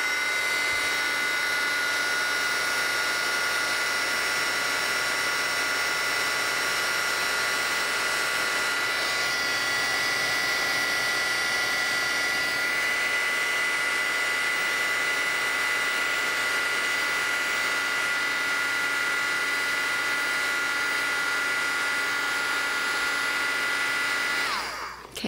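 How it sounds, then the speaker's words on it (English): Heat embossing gun heating a stamped craft image, a steady loud whirring blower hum with a whine that shifts pitch midway, running continuously then cutting off at the end. "Now I'm going to take my heat embossing gun"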